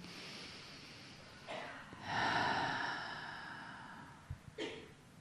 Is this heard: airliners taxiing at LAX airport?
no